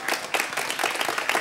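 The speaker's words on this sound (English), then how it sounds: "A big round of applause to Miss Kaden." Audience applause at a school event after an introduction, a short burst of dense, steady clapping from a crowd with no voices on top.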